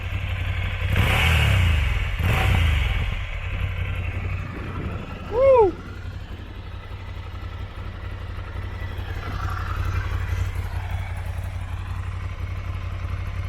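A 2019 Ducati Scrambler Icon engine with stock exhaust idles low and steady, rising in two brief revs early on; a voice whoops once in the middle.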